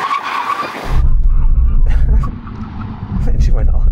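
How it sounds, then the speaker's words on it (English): Car tyres screech and skid in a hard emergency stop during a brake test, with a loud rumbling, scrubbing roar from under the car. A voice is heard at the start. "When we hit the line, full emergency stop."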